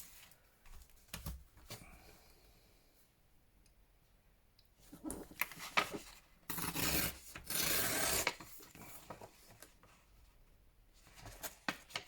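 Paper being torn off while making handmade gifts, with soft rustles and small clicks, then a louder rasping rip in bursts, close and fairly quiet.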